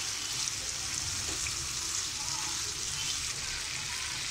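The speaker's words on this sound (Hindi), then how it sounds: "इसमें हम जो शिमला मिर्च है, प्याज, टमाटर ऐड कर रहे हैं, इसे मिक्स कर लेंगे हम।" Chicken fajita with capsicum, onion and tomato being stirred in a hot pan, a steady broad sizzle of frying with faint scraping beneath, continuous and close throughout.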